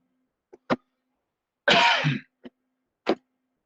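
A person coughs during a break in a live work-from-home session: two small coughs, one longer harsh burst, then two more short coughs, close and clear with no talk around them.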